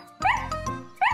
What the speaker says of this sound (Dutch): Ze kwispelt met haar staartje en blaft vrolijk.